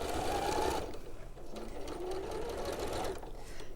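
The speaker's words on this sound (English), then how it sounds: "Don't you love the sound of a sewing machine?" A sewing machine runs steadily in a close, continuous mechanical whir, with a brief change in speed partway through and faint talk in the background.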